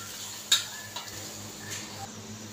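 Chicken and pineapple being stirred in a metal pot, with a light clink of a utensil against the pot and a soft scrape over a faint, steady background hum.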